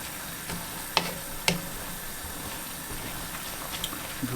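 Chard and spinach wilting in a hot pan over a medium-high flame, a soft continuous sizzle close by, broken by a few sharp clicks and taps of a utensil against the pan; no voices.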